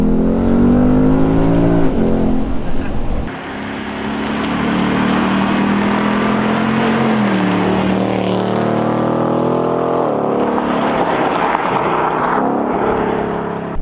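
A Ford Mustang V8 convertible drives on snow, its big engine droning loudly and steadily close by, rising and falling in pitch as it revs and shifts through the run.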